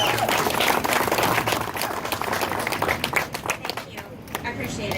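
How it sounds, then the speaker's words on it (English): Audience at a Rhode Island truckers' association rally giving a round of applause, a steady wash of clapping that slowly thins out, with voices mixed in. "I want to welcome and give a round of applause to Lisa Mullings of NATSO"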